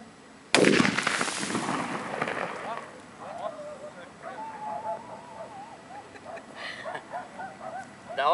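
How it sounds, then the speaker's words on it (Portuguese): A small firecracker loaded with under ten grams of gunpowder goes off with one sharp, loud bang and a crackling burst, then fades; fainter chirps follow in the quieter tail. "é uma bombinha com... Não tem mais do que 10 gramas de pólvora"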